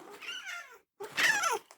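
A pet cat named Toby gives two close meows, a short one and then a longer, rising and falling one after a brief pause, with no talking.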